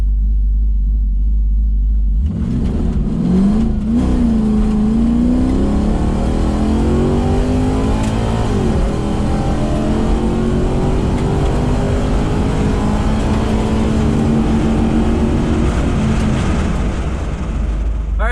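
Cammed Chevrolet Caprice PPV police car with 450+ horsepower on a drag run: loud, close engine roar from launch, rising through gears with a brief shift dip, sustained rumbling acceleration alone without talk.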